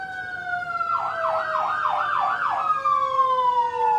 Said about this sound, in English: We interrupt this regularly scheduled video for sirens,